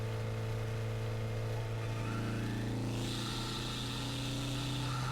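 A Honda FL5 Civic Type R engine with an aftermarket PRL intake revs and accelerates with a steady, strong hum and rising pitch, close by and loud, with no talking.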